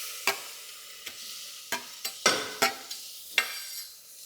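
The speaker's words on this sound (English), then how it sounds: "now I am adding the tomatoes" Tomatoes go into a pan for baadiyan dal and are stirred, about ten sharp scraping clacks of a spoon over a faint continuous sizzle.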